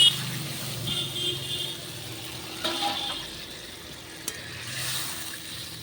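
Water poured into a pan of spiced potatoes frying with cumin sets off a brief burst of hissing and bubbling, then settles into a softer sizzle with a few spoon clinks.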